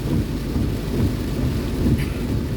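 Heavy rain pours down in Udon Thani with a deep, continuous low rumble of thunder underneath, a dense and loud wash of sound with no pauses.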